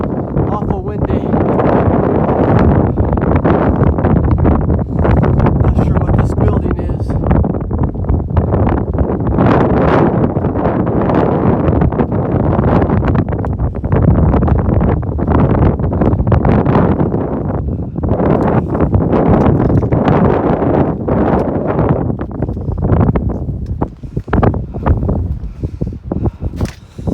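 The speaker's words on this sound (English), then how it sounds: "Awful windy." Strong gusting wind near a mountain top in the Bigelow Mountains batters the microphone with loud, continuous roaring buffets, nearly unbroken; a voice can be heard speaking beneath the rush.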